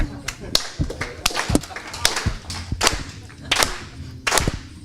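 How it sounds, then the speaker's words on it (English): Audience clapping at a live event in Stockholm, a burst of sharp, uneven claps that keeps going steadily through the whole stretch, fairly close, with voices mixed in underneath. "we'd like you all to clap and be happy"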